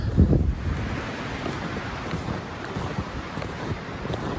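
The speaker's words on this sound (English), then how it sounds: "there is a blasting wind up in the canopy right now" Strong winter wind roars through the forest canopy along a snowy trail, a steady broadband rush with gusty surges and some microphone buffeting, loudest in the opening half second.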